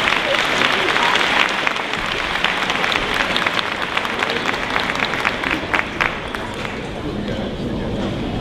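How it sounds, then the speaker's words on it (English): Audience applause fills a 2014 commencement ceremony, a steady dense wash of many hands clapping close and loud, with crowd murmur underneath throughout. "Let's honor A. Philip Randolph with another round of applause."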